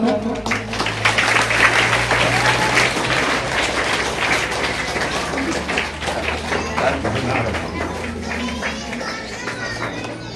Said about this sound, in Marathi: टाळ्या होऊन जावं मित्रांनो